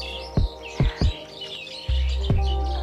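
Birds chirping and calling outdoors in a hilly spot near mountains with large rocks, several short sharp calls in a loose series, fairly close, with a steadier tonal note toward the end.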